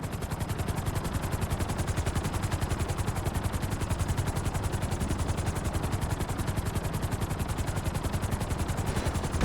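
Helicopter in GTA 5 setting down on a landing pad, a loud steady rotor chop with fast, even pulses running throughout, close and continuous with no talk.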